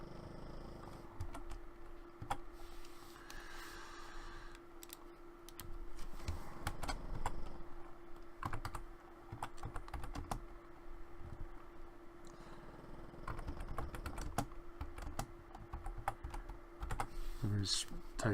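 Keys on a computer keyboard being typed in short bursts of fairly quiet clicks, with a steady hum in the background and a few pauses between runs.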